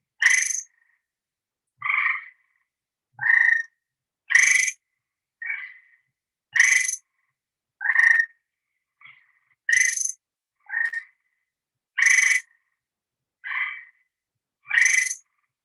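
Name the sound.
frogs calling, likely spring peepers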